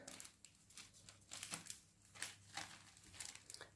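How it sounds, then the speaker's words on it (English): An ordinary plastic bag crinkles and rustles in irregular bursts, close by and fairly quiet, with no talking over it. "it's ordinary plastic bag"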